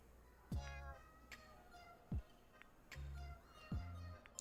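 A street cat in a video game meows several times in a row, each call clear and tonal, moderately close over a soft, steady background hiss.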